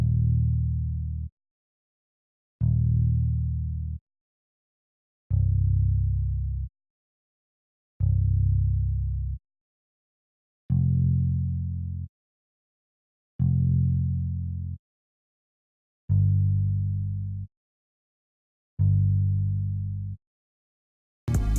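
A verse beat from a song with a deep bass under kick, claps and hi-hat, heavy sustained low hits repeating in a slow, steady loop of eight bars with short gaps.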